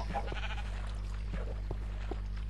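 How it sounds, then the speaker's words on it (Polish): Sheep bleating in the Minecraft video game, a few short repeated bleats over a steady low background hum from the game. "O, owca, owca, owca."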